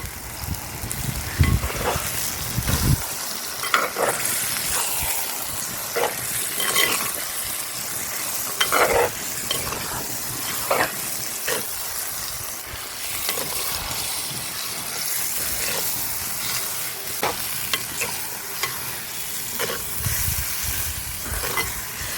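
Mutton being stirred with salt and turmeric in a pot: a spoon scrapes and knocks against the vessel in irregular strokes over a soft continuous sizzle, close up, with no voices.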